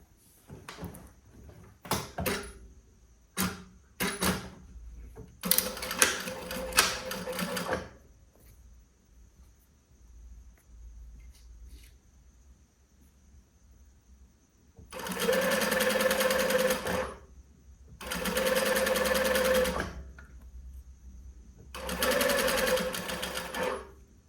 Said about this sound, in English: And then I sew here in the fold of the bias tape.